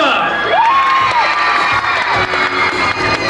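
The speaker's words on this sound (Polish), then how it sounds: "Oto ona, Manuela, wielkie brawa!" A big crowd cheers and whoops in an outdoor amphitheatre in Międzyzdroje for a Big Brother contestant, with children shouting. The roar is loud and sustained and stays close throughout.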